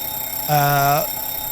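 Fire test alarm in a Boeing 727-200F freighter cockpit in Microsoft Flight Simulator: one steady, bright electronic tone with a harmonic stack sounds for about half a second, then cuts off cleanly, loud over a quiet cabin hum.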